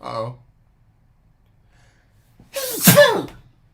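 A brief voice at first, then quiet, followed by one loud close sneeze with a sharp breath in and an explosive release.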